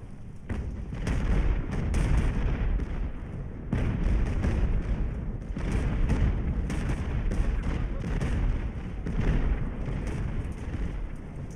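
Mortar artillery fires in the naval battle game Ultimate Admiral: Age of Sail as a string of loud, rolling booms and blasts, several overlapping across the stretch with brief lulls between volleys.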